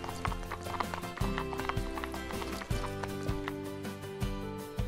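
Horses trot with a steady clip-clop of hooves in an animated riding scene, the hoofbeats set under continuous music.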